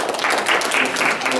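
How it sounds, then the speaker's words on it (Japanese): Applause at a Japanese political meeting approving a motion on officer appointments, brief and fairly loud scattered clapping from a room of participants, lasting only a moment. "拍手でご承認いただければと思います。"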